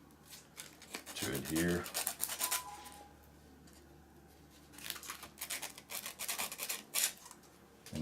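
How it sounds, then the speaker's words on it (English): Small metal washers rubbed with fine sandpaper to prepare them for solder, giving bursts of dry, gritty rasping in two main stretches separated by a quieter pause, with faint talk present. "I also use fine sandpaper for some of the small parts here. I'm going to be doing some washers."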